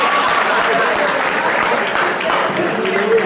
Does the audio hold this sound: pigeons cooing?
no